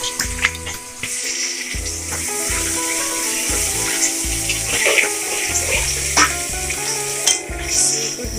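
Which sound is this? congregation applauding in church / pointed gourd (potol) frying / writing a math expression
pointed gourd (potol) frying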